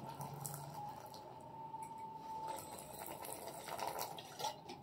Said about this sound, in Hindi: ये लो भाई, ये पानी हमने डालना स्टार्ट करा